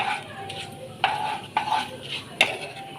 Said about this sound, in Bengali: ফোড়নটা ভাজা ভাজা হয়ে গেছে